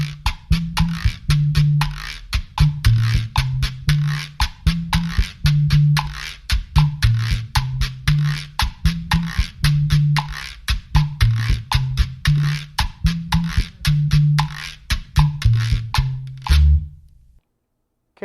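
Latin percussion playing the masacote section of a solo, a steady, repeating pattern of sharp drum strikes and deep tones that runs alone for about sixteen seconds and then stops.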